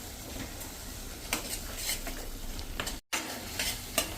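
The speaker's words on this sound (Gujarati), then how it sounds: "તેલમાં આપણા મસાલા સરસ કૂક થઈ જાય" Spices frying in oil in a pan for a cauliflower dhokli curry, a steady close sizzle with scraping stirs and clinks of a spoon against the pan, broken by a brief dropout near the end.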